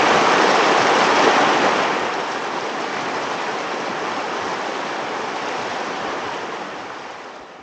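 A river in Pangasinan rushes in a dense, continuous wash of flowing water, loud and close, easing slightly after the first two seconds, with no voices.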